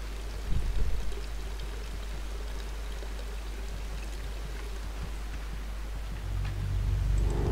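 Water pours steadily into a bucket in the video game Hello Neighbor, a continuous rushing stream that holds at an even level and swells slightly near the end.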